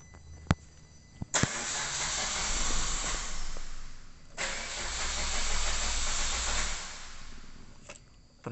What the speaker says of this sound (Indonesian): Ternyata mesin masih belum bisa menyala.